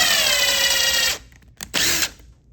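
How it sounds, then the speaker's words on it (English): A power drill bores a small hole into a wall for art-hanging screws and anchors, a loud, close whine for about a second, then a pause and a second short burst. "I'm gonna drill a small hole"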